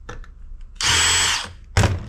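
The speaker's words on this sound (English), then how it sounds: "Now we're going to get the screws out for the neodymium magnet and this little bracket." A power screwdriver whirs for about half a second, stops, then buzzes again in a short burst while backing out screws from the neodymium magnet bracket inside a scrapped hard drive.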